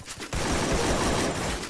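A sudden burst of rapid automatic AK-47 rifle fire in a video game that keeps going as a dense, loud stream of shots after a brief quiet start.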